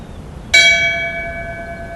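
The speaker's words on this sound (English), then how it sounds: "Would you please ring the bell in memory and in tribute for Deputy Mike V.C. Domini?" A single memorial bell is struck once in tribute to a fallen sheriff's deputy, its clear metallic tone ringing out and slowly decaying with long sustained overtones in a quiet room.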